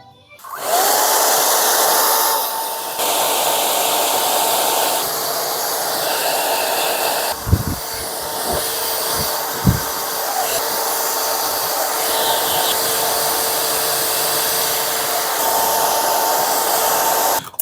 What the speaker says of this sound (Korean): 펌을 하고 나왔고요. 머리를 한번 말려 보도록 하겠습니다.